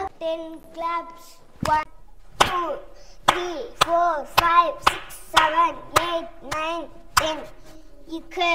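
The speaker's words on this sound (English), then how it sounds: "Claps." Sharp hand claps ring out one at a time in a loose, steady rhythm during a children's counting and dance game, with a voice chanting musically between the claps.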